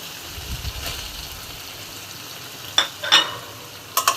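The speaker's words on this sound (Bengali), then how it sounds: "মশলাটা নেড়ে নেড়ে খুব সুন্দর করে যাতে পুড়ে না যায় সেদিকে খেয়াল রাখতে হবে।" Spice paste fries in a pan while being stirred, giving a soft, low sizzle that is punctuated near the end by a few sharp scraping and clinking strokes.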